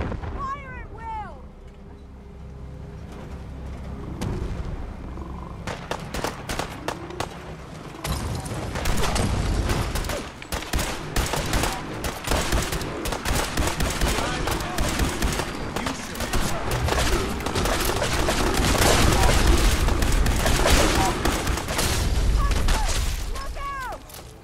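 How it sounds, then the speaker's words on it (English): Gunfire erupts in the Fallout 4 Far Harbor video game, dense overlapping rifle shots and blasts building into a loud, continuous fusillade, with shouted voices mixed in throughout. "Defend yourselves. Radio. Fire at will."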